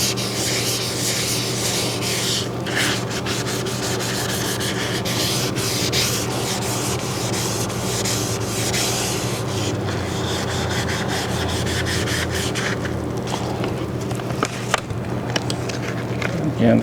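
Steady, continuous hand sanding of car paint with sandpaper, close and moderately loud, with a faint hum underneath throughout.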